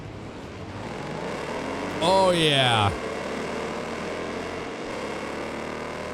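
A race car engine in Wreckfest 2 revs steadily under the hum of other cars, with a sharp rise and fall of revs through a gear change midway. A voice speaks briefly.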